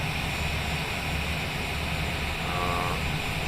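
A simulated Honda Jet's engines run steadily after landing on a runway in Microsoft Flight Simulator 2020, a constant loud broadband turbine roar with a faint high whine and no talking.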